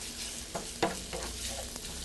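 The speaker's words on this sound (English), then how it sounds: "I'm going to put the beef in the pan." Beef for a steak sandwich sizzles softly in a pan, a quiet steady hiss broken by a few small pops and clicks as the meat is moved around.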